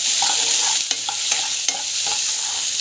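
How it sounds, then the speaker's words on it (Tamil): Onions with chillies sautéing in a pan, a constant close bright sizzle broken by several soft scraping taps of a spatula stirring. "வெங்காயம் நல்லா வந்து வதங்கணும்"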